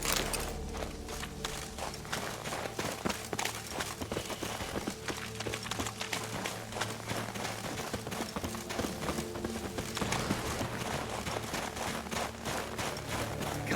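Horse hooves clip-clopping at a run in the video game Witcher 3, a steady fast rhythm of hoofbeats under constant game ambience and music, fairly faint throughout.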